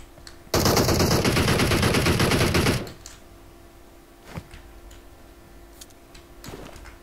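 Automatic gunfire in the mobile battle-royale game PUBG Mobile: a loud, dense burst of rapid shots lasting over two seconds, then a few sparse, fainter pops and clicks follow in the quiet.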